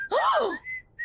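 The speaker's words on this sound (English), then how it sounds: "Listen for the happy whistle." Cartoon chili dog stand's happy whistle: a single bright, rising-and-falling whistled note lasting about half a second, followed by brief thin tones, clear and alone.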